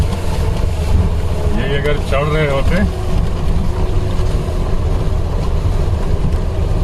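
A Maruti Gypsy rolls downhill in second gear over a muddy, sloping forest track, its engine a loud, steady, rumbling drone throughout, while someone speaks briefly near the middle.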